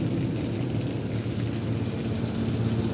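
Heavy rain falling outdoors, a steady dense hiss of drops, constant and fairly loud, with a low background hum and no talking.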